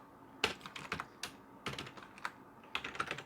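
Code is being typed on a computer keyboard in short bursts of quiet, close key clicks with brief pauses between the groups.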